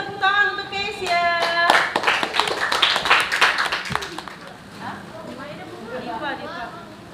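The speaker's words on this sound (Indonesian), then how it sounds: "Beri tepuk tangan untuk Kezia." Classroom clapping for a student, a short burst of hands in a small room between stretches of talk, with children's voices continuing after it fades.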